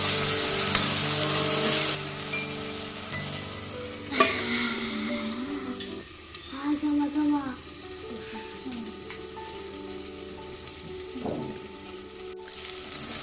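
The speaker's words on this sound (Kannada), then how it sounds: "ಇದೊಂದು ಸ್ವಲ್ಪ ಹಸಿ ವಾಸನೆ ಹೋಗೋ ತನಕ ಫ್ರೈ ಮಾಡ್ಕೋಬೇಕು." Ginger garlic paste and green chillies frying in a pan, a loud, steady sizzle with scraping stirring strokes, briefly louder at the start and softening midway, no talking.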